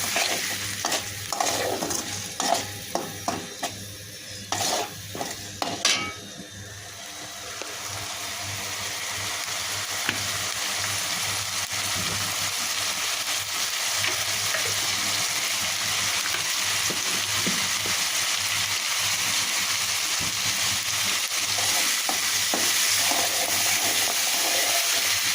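Shrimp stirred and fried in a pan with a pinch of turmeric and salt, a steady sizzle running throughout with scraping stir strokes clustered in the first few seconds, close and fairly loud, no talking.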